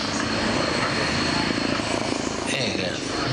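At an air display, a Belgian Air Force Agusta A109 helicopter flies fast, a steady, loud engine and rotor drone holding throughout with a brief shift near the end, while voices carry faintly beneath.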